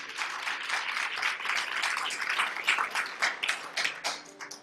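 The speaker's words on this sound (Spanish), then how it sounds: "Hay un aplauso al Señor" A church congregation applauding the Lord, a sustained wash of many hands clapping at moderate distance, fairly soft and even throughout, with no talking.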